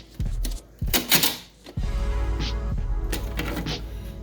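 The plastic ice basket of a VREMI countertop ice maker is handled, making close, hollow clattering and rattling knocks in quick uneven bursts.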